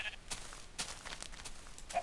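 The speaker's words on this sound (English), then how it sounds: "Hello, magenta sheep." Several short sheep bleats from Minecraft, spaced unevenly across two seconds at moderate loudness, with a faint voice nearby.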